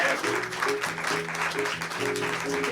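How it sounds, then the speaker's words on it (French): Theatre audience applauding at a stage performance about Jean de La Fontaine, steady dense clapping with some tonal voices or music underneath throughout. "sous vos applaudissements"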